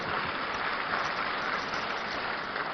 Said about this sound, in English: Please, let's give them another big round of applause.